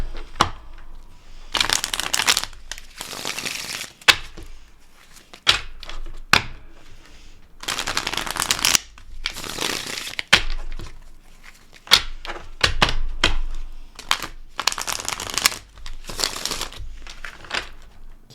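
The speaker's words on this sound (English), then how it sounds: "Keep shuffling." Tarot cards shuffled by hand in repeated bursts of riffling and flicking, close and moderately loud, separated by short quiet gaps and a few soft thumps.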